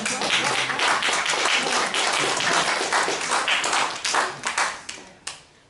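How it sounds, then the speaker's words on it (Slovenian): Enthusiastic applause from a crowd, dense continuous clapping that thins out toward the end with a few last scattered claps. "A lahko imamo študentov še en aplavz?"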